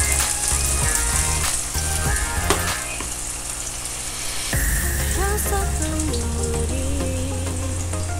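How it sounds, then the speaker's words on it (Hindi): Chopped onion and green chili hit hot oil in a pan with a loud, steady sizzle and crackle, over music that plays throughout. "तो फ्रेंड्स तेल गर्म हो चुका है, हम इसमें प्याज ऐड कर देंगे। इसके साथ मिर्ची भी ऐड कर देंगे।"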